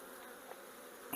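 Honey bees hum in a faint, continuous buzz at an open beehive, with a slight rise in noise at the very end.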